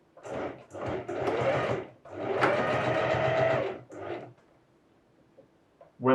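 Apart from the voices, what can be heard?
sewing machine stitching a securing stitch on elastic waistband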